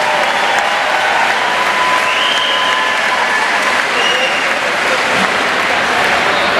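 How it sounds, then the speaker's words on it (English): Loud applause from a boxing crowd at Robarts Arena in Sarasota, Florida, cheering both fighters after a four-round bout, with faint whistles and crowd noise mixed into the steady clapping. "have a nice round of applause for both boxers"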